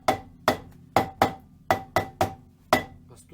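Small hammer tapping on the rear axle of a classic VAZ 2101-07 car, eight sharp metallic knocks at an uneven, roughly half-second pace, each with a short ringing tone, close and loud with no talking.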